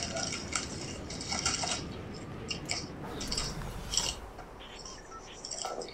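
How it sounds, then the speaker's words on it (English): Close, crisp crunching of chips being chewed, several sharp bites spread over a few seconds with faint clatter in the background. "That's the loudest chip crunch I've heard in my life"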